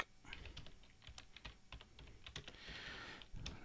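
Fast, light keystrokes on a computer keyboard, a steady close patter of clicks with short pauses, alone without speech.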